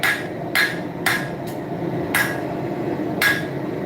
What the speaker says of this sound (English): Try to hammer right and left-handed, that way it keeps me balanced out and also a little less fatigue.